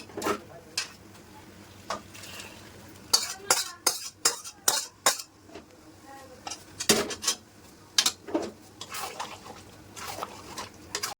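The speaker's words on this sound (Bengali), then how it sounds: "এবার এই মাটনটার মধ্যে এই গ্রেভিটা মিশিয়ে দেব" Gravy is stirred into mutton for mutton malaikari in a metal pot, heard as a series of loud clinks and scrapes of a spoon against the vessel in uneven bursts, with light sizzling underneath.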